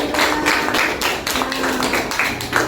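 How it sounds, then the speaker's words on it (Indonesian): A classroom of students applauds a winning group, with dense, steady clapping from many hands sustained throughout at a fairly even loudness. "kita beri tepuk tangan sebagai penghargaan"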